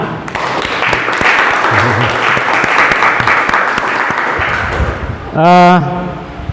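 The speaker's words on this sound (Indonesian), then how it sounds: "kita aplaus untuk kita semua" A classroom of students bursts into loud, sustained applause during a Hindu religious education lesson, steady clapping that fills the room for several seconds, with voices mixed in and a brief shout near the end.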